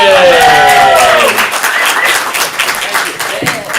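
Audience applause at a stand-up comedy showcase: dense, sustained clapping and crowd noise from start to finish, with a voice briefly calling out over it near the beginning.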